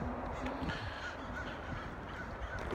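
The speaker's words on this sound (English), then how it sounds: "crows and ravens are harassing a hawk" Crows and ravens caw repeatedly while harassing a hawk, harsh calls coming in quick bursts from a short distance, layered over a faint outdoor background.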